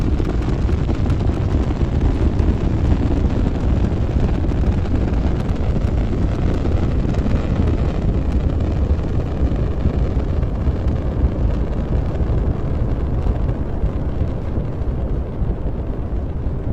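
The AurigaLITE rocket engine roars during ascent after lift-off, a loud, continuous, rumbling blast with wind-buffeted crackle that holds steady throughout.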